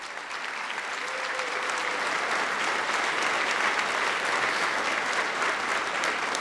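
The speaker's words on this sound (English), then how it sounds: "let's give a round of applause to our donors" A crowd at a scholarship donor event claps for the donors, a dense, sustained round of applause that swells in the first second and holds steady, with no speech over it.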